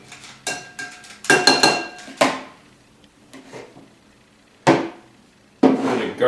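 A salad is stirred and served with close, bright clinks and clatters of utensils against a bowl, coming in short irregular bursts separated by near silence.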